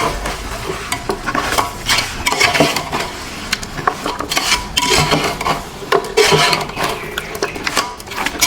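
Mutton biryani mixture being stirred in a pot, close and loud scraping and stirring strokes with a light sizzle underneath, repeated irregularly throughout, no voices.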